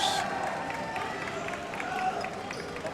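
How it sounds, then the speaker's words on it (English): Crowd murmuring and stirring in a high school gym before a boys varsity basketball game at Port Angeles, a steady, moderately distant rumble of voices with scattered shoe squeaks throughout. "the crowd will rumble away as they get ready for a festive atmosphere"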